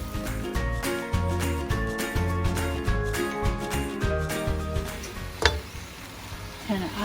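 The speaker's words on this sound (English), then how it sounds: "Now we're going to add potato, which we already boiled and cut it in a piece." Boiled potato pieces tip into a pan of dried anchovy and chili gravy and get stirred together, with a soft sizzle and scraping under a steady tonal backdrop and a brief clink near the end.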